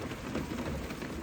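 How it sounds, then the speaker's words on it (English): Heavy rain pours outside a parked four-wheel-drive vehicle, heard from inside as a dense, steady hiss of drops drumming on the body, continuous and even with no voices. "It's pouring with rain outside."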